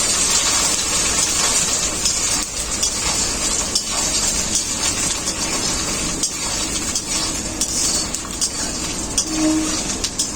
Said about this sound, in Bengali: আদাটাও খুব ভালো করে ভাজা হয়ে গেছে।